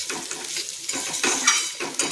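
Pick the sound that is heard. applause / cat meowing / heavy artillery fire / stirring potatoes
stirring potatoes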